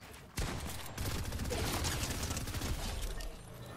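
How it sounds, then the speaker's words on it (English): Dense rapid gunfire in a Fortnite-style video game bursts in suddenly and continues as a loud, sustained fusillade of overlapping shots close up. "Stop fucking shooting at me"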